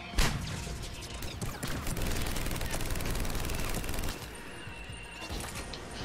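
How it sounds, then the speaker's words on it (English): Assault rifle fire in the Mass Effect 3 video game, a rapid crackling fusillade of shots sustained for several seconds, then easing into quieter battle noise. "When did Liara suddenly have an assault rifle?"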